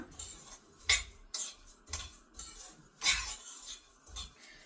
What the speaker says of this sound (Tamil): எண்ணெய் போட்டு வறுக்க போறது கிடையாது, வெறுமைதான் வறுக்க போறேன்